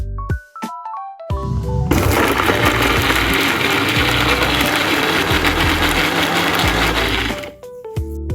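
An electric kitchen blender purees spices, palm sugar and coconut milk, roaring loudly and steadily for several seconds after a short start, then cutting off, with brief clinks and kitchen sounds before and after.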